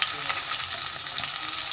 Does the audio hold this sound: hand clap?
no